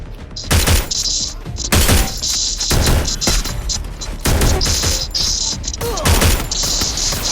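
Rapid bursts of Free Fire gunfire, loud and close, with repeated volleys and crackling shots over a busy background.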